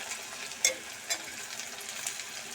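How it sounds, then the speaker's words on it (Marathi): Onion and papdi beans fry in oil with a quiet, steady sizzle, a couple of sharper stirring scrapes standing out close by. "चांगले परतून घेणार आहोत आपण याला ते बघा"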